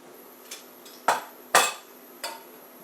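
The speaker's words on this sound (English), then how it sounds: "So I'm just gonna put like 1 teaspoon of whole cumin seeds as well." A metal spoon scoops whole cumin seeds from a spice box, making a few distinct clinks and taps, two of them louder, with faint rattling in between.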